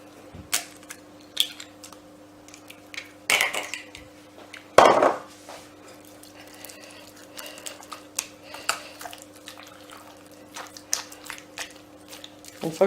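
A spatula works choux pastry dough and egg together in a pan, giving sporadic knocks, scrapes and clinks against the metal over a steady background hum.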